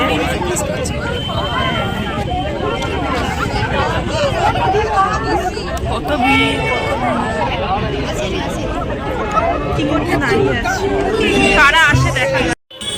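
Dense crowd babble fills an outdoor evening gathering at Patuli on 25 December, a steady continuous hubbub of many overlapping voices close around, with no single voice standing out.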